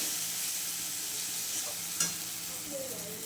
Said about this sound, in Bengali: এখানে আমি অ্যাড করে দেবো হলুদ, লঙ্কার গুঁড়ো, জিরে গুঁড়ো, ধনে গুঁড়ো। এটাকে আমি ভালো করে কষিয়ে নেব।